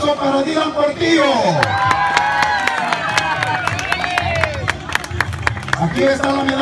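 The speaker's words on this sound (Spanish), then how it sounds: "Un aplauso para Pepe." Youth football crowd at an under-13 awards ceremony claps, cheers and whoops for a player. Children's shouts and voices mix into the lively, close-up noise throughout.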